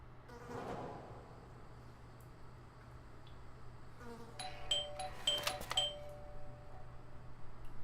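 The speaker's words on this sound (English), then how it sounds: "I thought I should use the doorbell so I wouldn't startle" A video game doorbell rings in a short cluster of bright electronic chimes midway, following a quieter buzzing background and a faint earlier tone, with no talk.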